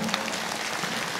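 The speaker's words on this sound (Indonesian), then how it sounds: "Tepuk tangan untuk Pak Haji Sulaiman" Steady, dense applause from a large audience at an Islamic preaching gathering fills the short stretch from start to finish at an even, close-up level, with no voices over it.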